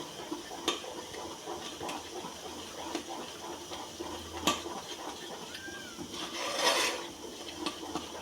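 Dhokla batter with Eno is stirred by hand in a bowl, giving faint, soft, rhythmic scraping and clicking at close range, with light watery sloshing in a quiet kitchen.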